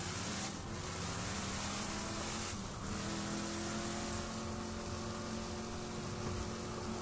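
Vehicle driving in Borderlands 2, a steady loud engine drone with shifting pitch and revving, continuous throughout with no voices.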